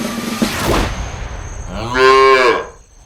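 A buffalo moos in a cartoon magic transformation scene: a broad whooshing burst comes first, then a single long, loud, harmonic moo rises and fades near the end.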